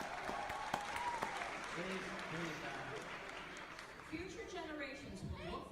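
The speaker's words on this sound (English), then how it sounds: "And the applauding." An audience applauds steadily throughout at moderate loudness while people keep talking over the clapping, their voices clearly on top of the noise.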